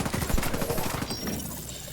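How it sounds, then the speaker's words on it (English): Rapid automatic gunfire from The Division 2: a dense burst of shots close by during the first second, then a fading rumble with no talk. "There's a lot of firepower coming my way"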